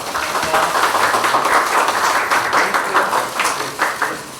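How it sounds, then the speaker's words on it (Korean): Applause from attendees at a Korean regional budget consultation meeting with provincial governors, a steady dense round of clapping sustained at moderate loudness throughout. "박수 부탁드리겠습니다"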